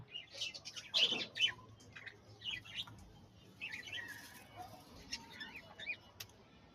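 Many birds chirp and tweet on a bird farm where young birds are raised, with busy overlapping calls from several birds at fairly close range and no talking.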